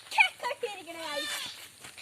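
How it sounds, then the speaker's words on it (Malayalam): Goats bleat at a goat farm in a few short, wavering calls, with a voice talking over them close by. "ഇതാണ് നമ്മുടെ ആട് ഫാം."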